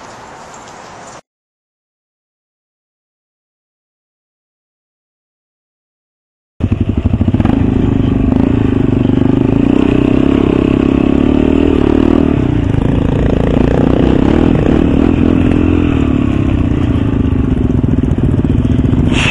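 A dual-sport motorcycle engine runs loud and steady from close by, idling and rumbling continuously after a brief burst and a stretch of silence, with wind noise over it.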